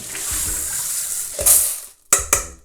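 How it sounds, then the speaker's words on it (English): Running water splashes steadily over beans in a container, with a few louder rinsing swishes and short pauses toward the end. "now I'm gonna quickly wash this with running water"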